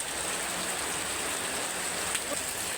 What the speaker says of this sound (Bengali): এবারে কিন্তু খুব ভারী বৃষ্টি হচ্ছে।